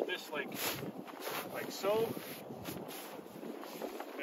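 Steady wind gusts buffet the microphone in a broad rushing roar, with someone speaking briefly underneath.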